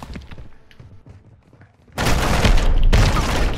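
Shotgun blasts in the Modern Warfare II beta, two heavy booming shots in quick succession after a quieter stretch of game noise, loud and close.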